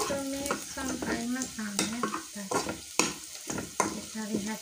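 Food stir-frying in a pan for a clear vegetable soup dish, with steady sizzling and repeated scraping strokes of a spatula, loud and close, with no talking.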